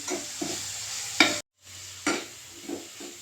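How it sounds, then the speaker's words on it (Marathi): Coriander leaves sauté in a pan: a soft sizzle with sharp spatula scrapes against the metal and a brief moment of silence partway through. "कोथिंबीर पटकन परतली जाते"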